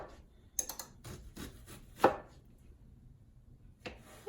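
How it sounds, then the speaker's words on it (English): A knife chops an onion into chunks on a board, giving a handful of crisp, irregular thuds close by, with quiet gaps between strikes. "I'm going to cut the onion just about half the size of the cabbage"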